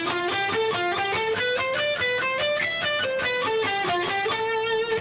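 An electric guitar plays a melodic shred sequence, walking a scale down and back up across the strings in a rapid, continuous run of sustained, slightly distorted notes, alone and close.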